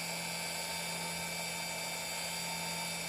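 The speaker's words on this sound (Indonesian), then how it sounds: "Kita langsung diamplas gerinda supaya rapi." A small grinder sands a fiberglass platform shoe heel with fine sandpaper, giving a continuous high, steady whine that stays even and unbroken throughout, with no talk.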